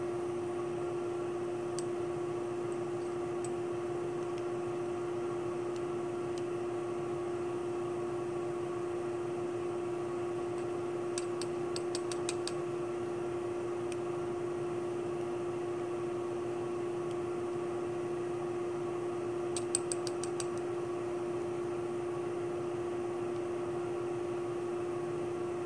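A vacuum line running for filtration in a chemistry lab, a steady mechanical hum with a constant tonal whine and occasional faint clicks, no talking.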